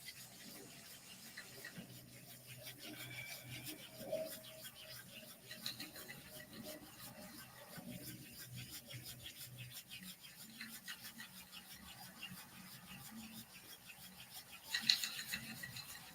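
Palms rubbed briskly together to build heat during a full moon breathing practice, a steady soft rasping friction that carries on for the whole stretch at a quiet, even level, with a brief louder swish near the end.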